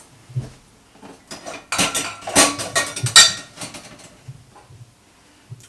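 A big mixing bowl, measuring cups and a tablespoon are handled for bread making, giving a scattered run of close clattering knocks and clinks, busiest in the middle and sparse at the start and end.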